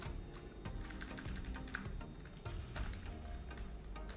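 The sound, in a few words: computer keyboard typing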